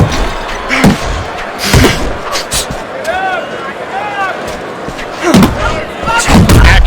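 Heavy punches land in the Fight Night Champion boxing video game, thudding in uneven bursts near the start and again near the end, with crowd noise in the background and a commentator talking throughout.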